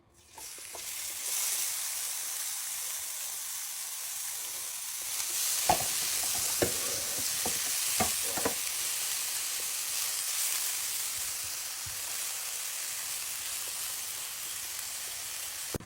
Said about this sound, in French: Je mets de l'huile. J'ai mis oignon.